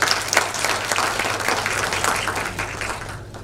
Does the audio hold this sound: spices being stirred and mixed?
no